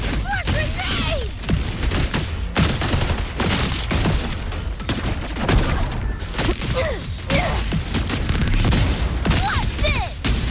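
Gunfire and grenade blasts in the video game Wuthering Waves, a dense, loud barrage of rapid shots and booms with whooshing effects, continuous throughout alongside game music.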